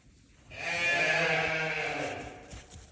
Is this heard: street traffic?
no